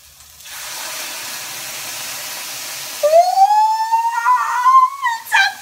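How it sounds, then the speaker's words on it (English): A steady hiss of vegetables sizzling in a pan as sweet wine is added fills the first seconds, then a rising whistling tone cuts in over the sizzle, loud and close. "Listen to the sizzle as I add this to my veggies."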